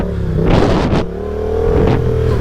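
A Yamaha FZ07 motorcycle engine revs hard during wheelie practice, with a loud, sustained mid-pitched drone that surges twice and a brief dip near the one-second mark.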